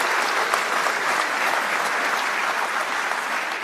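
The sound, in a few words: audience applause at launch event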